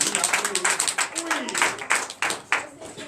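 A church congregation clapping in quick, uneven bursts while voices shout and call out acclamation together, loud and near, during a night deliverance and prophecy service.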